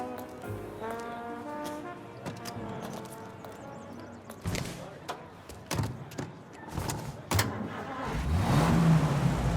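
A vintage car engine idles and revs in the Mafia game while people speak over it, the motor growing louder and rising in pitch toward the end.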